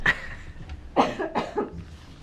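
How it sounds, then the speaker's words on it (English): Several close, harsh coughs in a quick cluster during a board of education meeting, followed by quieter throat sounds in a still room. "I have to cough, so excuse me a second"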